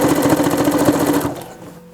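A sewing machine stitches a fabric collar in a fast, even rattling burst that runs for over a second and then stops, close and with no talk.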